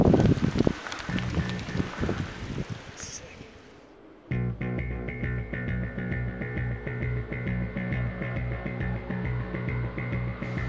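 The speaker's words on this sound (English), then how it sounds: "Man, it's raining" Steady rain falls during a mountain storm, a broad hiss of drops with gusty wind, continuing evenly after a brief quieter lull.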